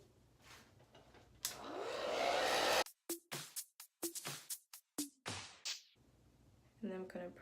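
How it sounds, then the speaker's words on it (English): A blow dryer runs on a wig during installation, a loud steady whoosh for about a second and a half before cutting off, followed by scattered short bursts and soft handling sounds. "I'm gonna take the blow dryer"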